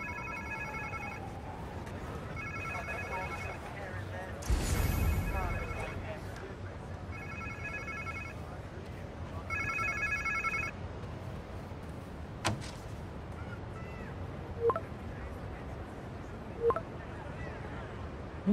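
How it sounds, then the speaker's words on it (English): A phone rings in a Marvel's Spider-Man 2 game scene, several evenly spaced electronic ring bursts repeating over a quiet background, with a louder thump partway through and a few faint clicks near the end. "Sounds like somebody's phone."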